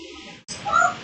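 A cat gives one short, rising meow indoors after a brief pause, faint and close by.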